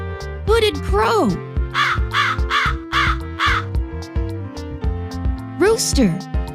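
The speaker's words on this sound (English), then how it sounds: "hooded crow" A hooded crow gives a run of loud, harsh caws in a steady rhythm over a background music track, with a voice speaking briefly at the start and again near the end.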